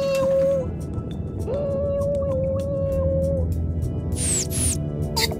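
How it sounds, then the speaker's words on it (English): Dolphins underwater give drawn-out tonal whistles with rising sweeps and scattered sharp clicks, close and fairly loud over a steady wash of underwater noise, with no talk heard. "Did you notice how the dolphins are making sounds but their mouths are closed?"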